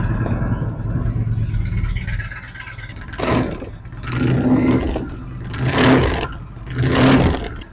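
An Indian motorcycle with a stage two aftermarket exhaust idles with a low rumble, then revs hard four times in a row, each throttle blip rising loudly and falling back, close by.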